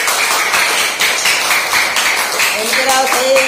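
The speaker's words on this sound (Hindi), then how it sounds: "ताली बजा दीजिए।" Children clap in a classroom during a counting lesson, a steady run of sharp claps close by for several seconds, with a teacher's voice and tonal speech rising near the end.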